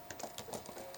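Fingers tap a computer keyboard while coding a Python program, a quick run of about half a dozen soft, close keystrokes at low volume.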